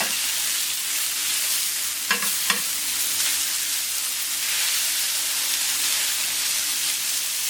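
Onions frying in a pan for a bordelaise sauce served with grilled onglet steak give off a steady, close, loud sizzle and hiss, broken by a couple of brief clinks or stirring knocks.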